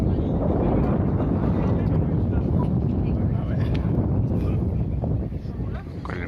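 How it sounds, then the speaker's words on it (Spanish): Strong wind buffets the microphone on the Atlantic coast at La Rochelle, a fishing town, as a steady, loud broadband roar that holds throughout and eases slightly near the end. "hace un viento y un frío impresionante"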